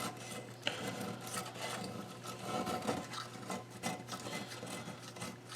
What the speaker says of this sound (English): very gently go around this pan. Just get that gasket off